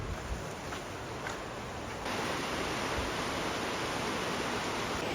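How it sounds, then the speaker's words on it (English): Steady broadband rush of water near Hickman Bridge in Capitol Reef National Park, a constant loud hiss that grows slightly stronger partway through, with no voices. "Sound of water rushing after hiking is so refreshing."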